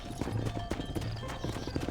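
Horse hooves clip-clop at a steady gallop in the Red Dead Redemption video game, a rhythmic run of close, fairly loud beats over a busy mix with faint whinnying.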